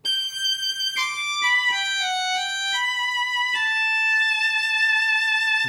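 Malay biola voice on a Korg Pa600MY arranger keyboard, a nasal, violin-like tone playing a short sliding melodic phrase of held notes with glides between them, clear and alone.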